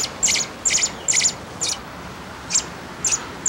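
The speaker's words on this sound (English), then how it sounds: "I think it's a baby bird." A baby robin peeps in a series of six short, high chirps in uneven rhythm over a faint background hiss, with no talking.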